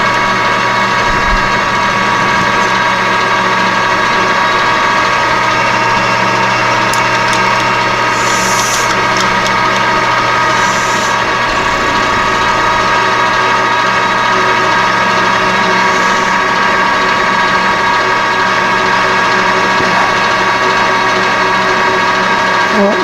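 A metal lathe runs steadily while knurling a thumb screw, with a constant tonal machine hum and a grinding drone, plus a few faint metallic ticks and scrapes on top.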